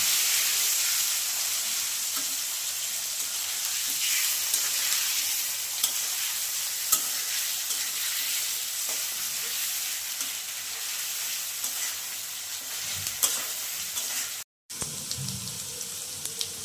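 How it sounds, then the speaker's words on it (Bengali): Potatoes frying with onion and garlic paste for a pabda fish curry, a continuous even sizzle running throughout, close and steady, with a brief break near the end. "রসুন বাটার পেঁয়াজ বাটা ভালো করে কষিয়ে নিয়েছি যাতে কাঁচা গন্ধটা চলে যায়"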